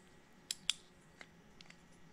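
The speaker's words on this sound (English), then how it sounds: "And you'll hear it clip in place." A motorcycle gas cap lock cylinder clips into its shell, giving two small sharp metallic clicks close up in a quiet room, followed by a few fainter ticks.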